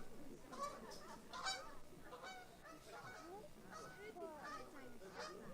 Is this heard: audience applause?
no